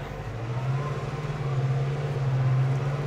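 A New Holland T6.175 tractor engine running near 2200 RPM through a gear change, a steady close mid-pitched drone with a strong low hum that rises slightly in load partway through.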